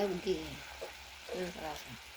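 Bean sprouts frying in a hot pan, a soft steady sizzle running under a few short bursts of nearby talk.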